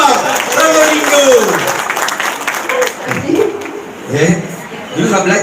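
Audience at a live talk in Probolinggo claps and murmurs in short bursts, while a speaker's voice carries over the crowd noise throughout.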